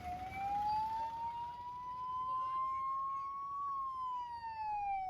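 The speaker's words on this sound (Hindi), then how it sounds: "इस वीडियो में एम्बुलेंस भी ई रिक्शा के आड़े तिरछे खड़े होने के चलते फंसी है।" An ambulance siren wails in a long, steady rising and falling tone, loud and continuous, as the ambulance sits trapped among haphazardly parked e-rickshaws in jammed traffic, with faint road noise underneath.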